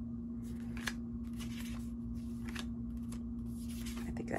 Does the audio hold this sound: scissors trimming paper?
yes